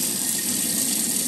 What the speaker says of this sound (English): turning the faucets on, get some water to go through the pipes